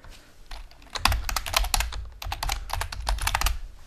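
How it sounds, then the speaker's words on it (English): Rapid clicking keystrokes on a computer keyboard as a full name is typed, close and crisp in quick irregular bursts with a brief pause partway through. "You're going to type in your full name after reading the acknowledgement."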